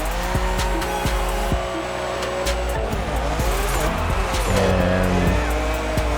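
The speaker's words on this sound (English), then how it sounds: "they still got us, burning out our tires to get to the green spot" A car burning out its tires in The Crew Motorfest video game: a loud revving engine with sustained, wavering tire squeal and skidding, continuous and close throughout.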